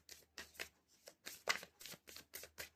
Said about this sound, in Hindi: निकाल रही हूँ मैं कार्ड।